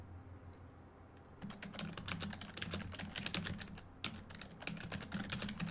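Rapid, steady typing on a computer keyboard at close range, dense clicking keystrokes with brief pauses and no speech.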